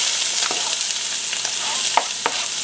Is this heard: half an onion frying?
yes